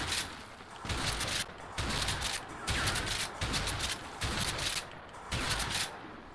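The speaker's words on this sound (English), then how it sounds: "Let's go for the shotgun. Now this one does a lot of damage." Heavy shotgun blasts in the video game A Way Out, a steady series of loud, close booming shots in bursts with short gaps, each roaring wide and dense across the whole clip.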